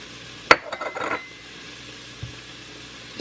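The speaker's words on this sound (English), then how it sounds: "At this point, we're going to add all of those spices in." Spices tipped into a chili pot give a sharp metallic clink followed by a short cluster of rattling taps against the pot, then quiet with one faint knock near the end.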